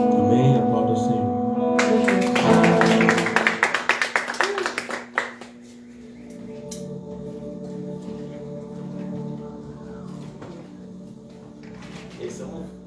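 Worshippers in a church clap together in brisk bursts over music and voices, and the clapping fades out after a few seconds while the music continues.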